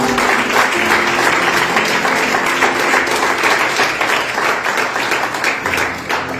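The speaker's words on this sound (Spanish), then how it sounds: "Den un aplauso, por favor, fuerte al Señor." A church congregation claps loudly during a sermon, a dense, continuous wave of applause that holds strong before easing slightly at the end.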